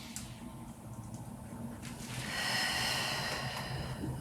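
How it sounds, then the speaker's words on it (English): A deep breath drawn in during a Pilates exercise: a soft, airy inhale that swells and grows louder toward the middle, then holds steady, close by and alone. "Breathe in."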